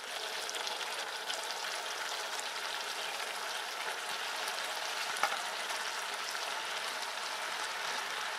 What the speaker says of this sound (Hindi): सारी चीज़ें अच्छे से उबल रही हैं, तो अब हम इसमें ऐड करेंगे अपने तले हुए गोभी।